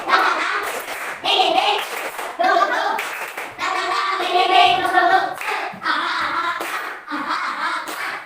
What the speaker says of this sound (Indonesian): Coba kita tepuk semangat lagi,